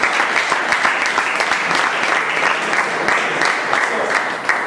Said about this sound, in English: With a big round of applause, please welcome Prakash Francis now.